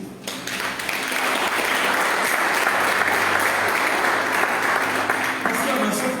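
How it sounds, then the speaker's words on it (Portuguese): A church congregation breaks into applause during a sermon, broad steady clapping from many hands rising quickly and holding evenly for several seconds. "Você pode aplaudir Jesus por isso?"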